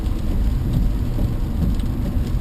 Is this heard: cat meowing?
no